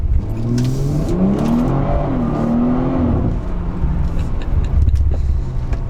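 A BMW F30 340i's engine revs hard under acceleration, the tone rising through the gears with a brief lift between shifts, heard close and strong over road and wind noise.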